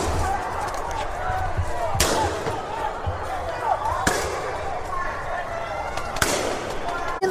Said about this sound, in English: tonight there are still people setting off fireworks